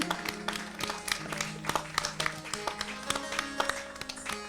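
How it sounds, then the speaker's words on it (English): Outdoor audience at a Krishna Leela celebration clapping for dancers coming in from the drizzle, scattered and uneven claps at moderate distance, a thin patter with sharper individual hand strikes standing out. "let's give them a round of youths, a round of applause as they come out of the rain"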